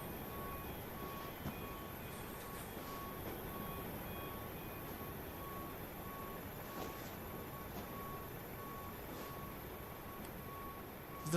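Steady, faint electronic beeping repeats at a regular interval over a constant low hum in Microsoft Flight Simulator, at a parked airliner, a PMDG 737-800 at Portland, while passengers deboard.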